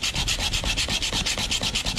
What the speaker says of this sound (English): Sanding that down with a little more pressure